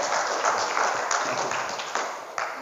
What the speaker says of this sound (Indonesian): Boleh tepuk tangan buat kakak kita hari ini.